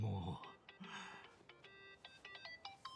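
A phone ringtone from the video game Like a Dragon: Infinite Wealth plays as a string of short, bright melodic beeps in an irregular pattern after a brief burst of talk.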